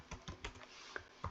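Typing code on a computer keyboard: a quick run of soft, close keystrokes in an uneven rhythm, with a couple of sharper clicks near the end, heard alone without talk.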